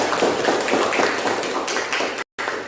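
A classroom group claps together at the end of a discussion session, a close, busy patter of hands with clear individual claps, briefly cut out near the end.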